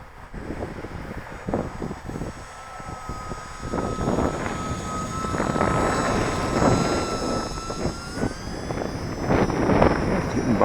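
A small UMX Timber RC airplane flies in gusty wind with its throttle pulled back, its electric motor whining steadily at a moderate level amid microphone wind buffeting that swells and fades over about ten seconds.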